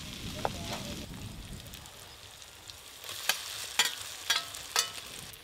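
Fried potatoes are stirred into hot spiced oil and mustard paste in a pan for a Bengali fish curry, giving a faint sizzle under scattered sharp scraping taps, with a little talk early on.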